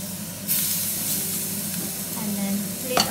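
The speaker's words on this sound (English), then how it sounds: "I'm going to cook the rest of the fish." Haddock fillets sizzle in a hot pan, a loud close hiss that surges as the fish goes in and stays steady, with a brief clank near the end.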